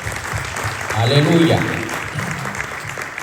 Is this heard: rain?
no